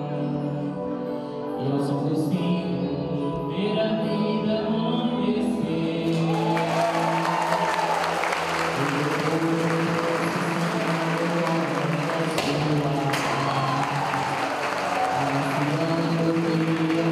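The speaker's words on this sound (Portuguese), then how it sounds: "recebeu muitos aplausos da comunidade" Community applause at a church festival poster presentation for Nossa Senhora de Nazaré, a sustained crowd clapping that swells after a quieter start and continues steadily, with a faint murmur of voices underneath.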